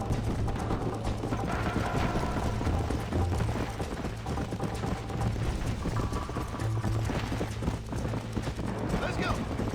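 Horse hooves clip-clop steadily in the Red Dead Redemption video game, with a continuous rhythmic beat under a voice that talks over them.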